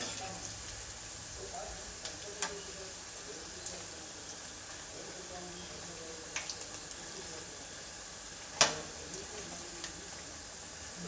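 Flipped bonda frying in hot oil, a soft, steady sizzle with faint crackles and a few light clicks from a utensil, with one sharper clink partway through.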